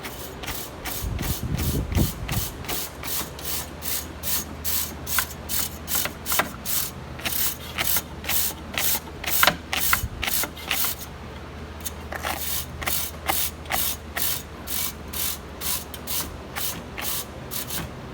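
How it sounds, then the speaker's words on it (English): A wire brush stroked over the fins of a 6.0 Powerstroke air filter, giving a steady, rapid series of close, crisp scraping rasps with one or two brief pauses, no talk. "You take a wire brush, okay? You can get these anywhere, and you're just gonna stroke it in the same direction that the fins are going."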